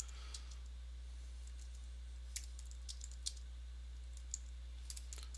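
Quiet, sparse clicks of a computer keyboard being typed on, a few sharper keystrokes standing out over a steady low electrical hum, with no voices.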